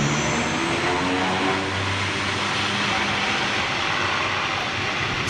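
Engines of a large jet airliner spool up as the throttles are advanced, a loud, steady, broadband roar that holds without a break throughout, with some voice murmur mixed underneath.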